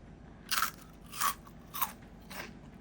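Crispy pork floss sticks bitten and chewed up close, four distinct crunchy bites spaced about half a second apart over a quiet background.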